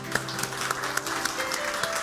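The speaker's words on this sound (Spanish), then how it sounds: "Le damos un aplauso al Señor." A church congregation claps steadily at the end of a service, a dense and continuous burst of applause with a few sharper claps standing out, a sustained organ or keyboard tone underneath.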